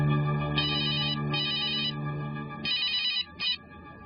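An incoming call sets a phone ringing in a tense crime-drama scene, with bright repeated electronic ring bursts over a sustained low tone, loud and close, and no talking.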